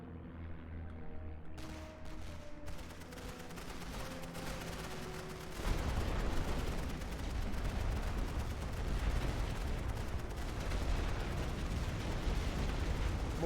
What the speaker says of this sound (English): Mortar over here firing.